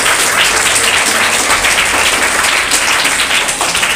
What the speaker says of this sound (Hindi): जरा ताली बजाइए